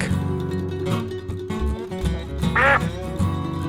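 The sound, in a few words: duck quacking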